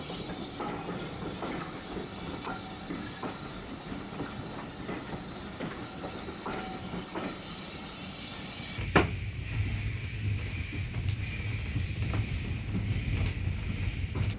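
A steam train on the Ecclesbourne Valley Railway rumbles and rattles along with a steady hiss and rhythmic clatter, then shifts abruptly to a deeper, heavier rolling sound as the carriage noise changes, heard from on board without talking.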